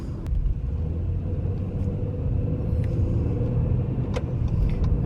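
A car driving along a road, a loud continuous engine rumble and tyre roar close by, steady throughout with faint rattles and no talk.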